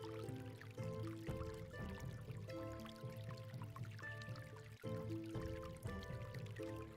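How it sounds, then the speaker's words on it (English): Water flowing and pouring in a roguelike tactical RPG video game, a continuous trickling, splashing stream layered with soft tonal game music, steady and moderately quiet with no talking. "you hear the refreshing sound of water."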